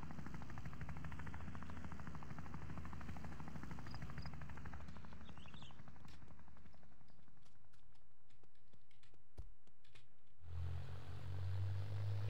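Helicopter in the Wobbly Life video game, a steady loud rotor and engine drone with rapid rhythmic chopping that continues throughout and shifts to a deeper hum near the end.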